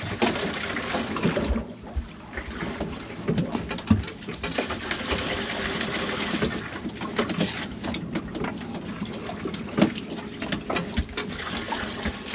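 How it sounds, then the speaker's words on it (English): Water sloshes and splashes into a bait bucket on a boat at sea, a continuous close gushing and gurgling for about twelve seconds with occasional knocks and bumps. "I'm filling up the bait bucket with water"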